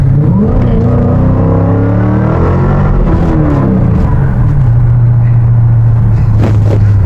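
A car accelerates hard with its tires spinning, a loud, close engine roar rising and shifting in pitch over a steady rumble, with no voices heard.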